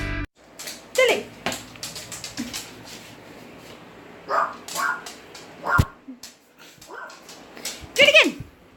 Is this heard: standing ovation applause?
no